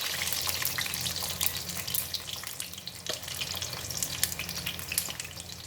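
Fish coated with turmeric frying in a pan, a dense, steady sizzle with constant crackling pops, close and fairly loud, with no talk.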